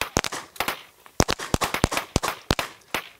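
Gunshots ring out during a live-fire handgun drill, a rapid string of sharp, loud cracks in quick bursts with short gaps between them.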